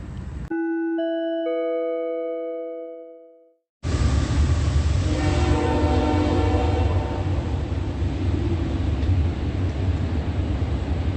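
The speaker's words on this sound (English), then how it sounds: "the sound of the train activity immediately follows what is a plane taking off" A train passes close by with a sudden, loud, sustained rumble and rattle, and brief tonal horn-like notes sound within it. Several clear chime-like tones ring out just before the train arrives.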